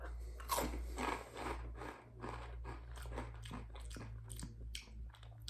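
Crunchy bites and chewing of Takis Fuego, rolled fried tortilla chips, repeat in an irregular rhythm, close to the mic and fairly quiet over a low steady hum, with no talking.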